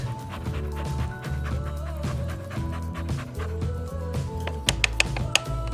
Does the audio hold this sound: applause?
no